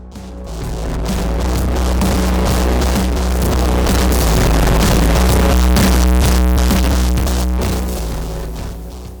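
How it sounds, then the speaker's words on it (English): Harsh, heavily distorted noise wall from the most extreme power distortion setting of the WA Productions Satyrus plugin, loud and dense throughout, with crunchy buzzing and a thick low drone underneath. "You have power distortion. This one is the most extreme of them all."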